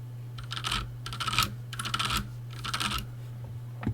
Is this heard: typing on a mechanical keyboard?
yes